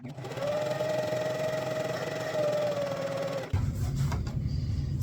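A sewing machine stitching paracord onto a LARP shield cover runs in one steady whirring hum for several seconds, then stops, followed by faint handling clicks and rustle, close and fairly loud.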